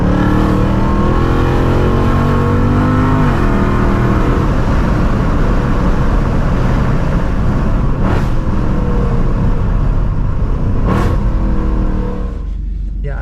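Supercharged Mercedes CLK 63 AMG Black Series, a stage 3 Weistec build, accelerating hard with a loud, sustained engine roar that climbs through the revs, with brief shift breaks, then eases near the end.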